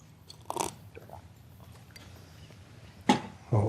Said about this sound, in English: When I'm drinking here, y'all do like the little gulp sounds?